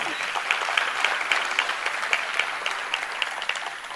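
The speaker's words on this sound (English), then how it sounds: "Please give them a round of applause." An audience at a mayoral matric awards ceremony claps steadily, a dense, sustained wash of applause heard throughout at moderate loudness.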